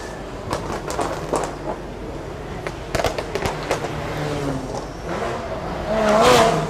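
Race cars circle the Bangsaen street circuit under yellow flag conditions during a Thailand Super Series round. Engine bursts and pops come and go at a distance, and one car swells louder as it passes near the end.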